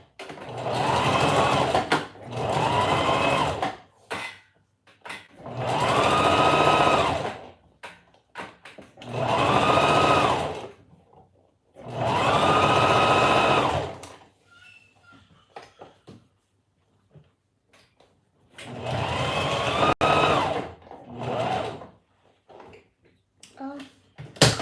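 A sewing machine stitching a wig runs in several loud bursts of steady whirring, each lasting a couple of seconds, separated by short pauses with small handling clicks and brief talk.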